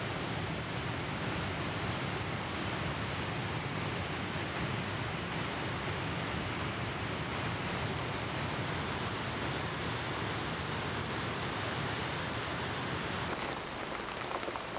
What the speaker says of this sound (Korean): 가장 웅장한 메인 폭포.